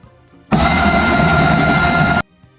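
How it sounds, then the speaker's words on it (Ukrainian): A blender grinds a cooked eggplant spread in a continuous loud whir that starts abruptly, holds steady for under two seconds and then cuts off, with quiet room sound before and after. "Приготовану масу подрібнемо в блендері"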